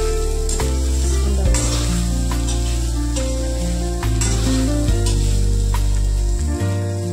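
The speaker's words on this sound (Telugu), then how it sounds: "వేడెక్కాక మిల్లిమిల్కలు వేసుకొని వేయించుకోవాలి." Soya chunks (meal maker) fry in a hot pan with a steady sizzle, mostly buried beneath loud continuous background music for the whole stretch.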